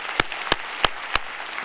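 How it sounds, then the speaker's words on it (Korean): Church congregation at a Sunday worship service claps in unison, four evenly spaced sharp claps over a steady background hiss. "우리 박수 한번 하고요"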